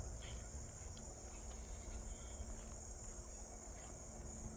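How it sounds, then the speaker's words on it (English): Crickets chirp steadily outdoors in nature during a walk, a continuous faint insect trill over a low background hum of distant road traffic and wind. "crickets in the background"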